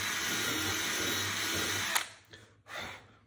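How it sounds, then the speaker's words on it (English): Power drill with a sharp-tipped countersink bit boring a starter hole for a Sunfish rudder fitting, a steady close whine for about two seconds that slows and stops, with brief bursts after. "hole with my sharp tipped countersink bit, just so that we get a hole started and we don't wobble away from where we wanna be"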